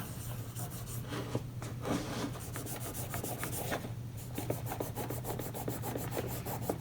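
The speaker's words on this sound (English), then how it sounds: "let's see what we can do with the abrasive pad" An abrasive pad scrubs a Wilson Bohannan lock in quick, rhythmic back-and-forth strokes, close and continuous throughout with no voices.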